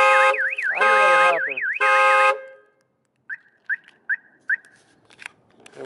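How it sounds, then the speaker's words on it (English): Alarm on a 2005 Ford Mustang GT blares a loud warbling siren for about two seconds, then cuts out, followed by a few short chirps. "The alarm is a little bit touchy, so we'll turn that off."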